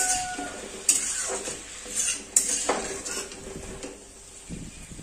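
Lobia vegetables being stirred in a pan with a metal spoon, repeated clinks and scrapes against the pan over a soft sizzle, close and without talk.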